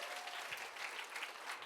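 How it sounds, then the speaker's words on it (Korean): Steady audience applause at a Korean Christian talk-show taping, a dense continuous patter of many hands clapping for about two seconds with no voices over it. "박수 한번 쳐주세요"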